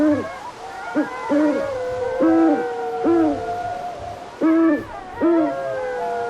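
Owls hoot repeatedly in a Minecraft forest, a series of clear two-note calls spaced irregularly over a soft ambient background, with no talking.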